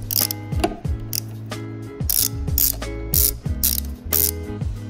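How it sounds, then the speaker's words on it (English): Ratchet wrench with a 12 mm socket turning the nut on a car battery's negative terminal, a Lexus RCF: rapid clicking pawl bursts in several close, loud runs with short pauses between, no talking. "all you need to disconnect that negative terminal right there is a 12 millimeter socket and a ratchet"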